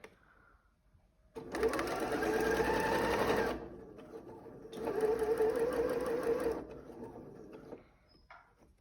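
A sewing machine stitches fabric pieces for a triple-pleated face mask in two distinct bursts of close mechanical whirring, with quiet pauses before, between and after them.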